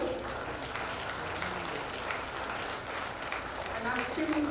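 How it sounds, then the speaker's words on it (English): Crowd applause at a high school event supporting a plastic-free environment, a steady dense wash of clapping with a few voices mixed in, moderately loud throughout. "I think a big round of applause for kids who have stood up for this."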